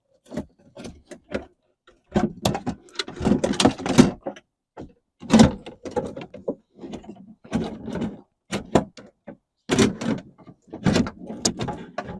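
Someone struggles with a door on a 2002 Jeep Grand Cherokee, producing irregular clunks, rattles and latch clicks in scattered bursts with quiet gaps, close to the microphone.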